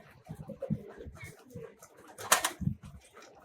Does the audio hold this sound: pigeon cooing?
yes